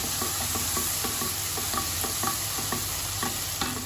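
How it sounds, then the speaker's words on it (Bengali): Spice paste is stir-fried in a pan, a steady loud sizzle with a spatula scraping and stirring in a regular rhythm throughout, no voices. "এখন আমি মশলাটাকে খুব ভালোভাবে কষিয়ে নেব।"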